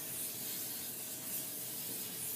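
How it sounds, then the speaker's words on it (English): Steady fine hissing mist from a spray bottle, soft and continuous, with no voices. "I'm going to give her another little light spray."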